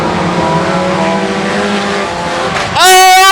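Race cars roar around the Boothill Speedway dirt oval after a restart, engines loud and close, with a rising whine as one car sweeps past near the end.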